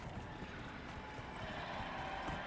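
Horse hooves clip-clop steadily in Skyrim, a soft even patter of footfalls over a dense game backdrop, with no talk.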